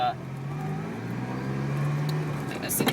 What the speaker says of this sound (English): off in the Ferrari, here we go